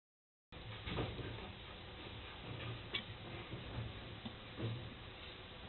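Ratcheting wrench tightening a flange bolt during an assembly rebuild, with a few separate faint clicks and ticks spaced irregularly over quiet background noise.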